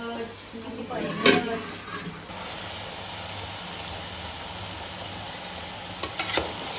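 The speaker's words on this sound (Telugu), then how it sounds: "ఇదిగోండి, ఇదంతా వేసి ఒకసారి బాగా కింద మసాలా అంతా దీనికి సరిపడా కలిపేయాలి." Masala is stirred in a pan for a Rayalaseema-style goat head curry, with a few scraping strokes over a constant background sizzle and hiss.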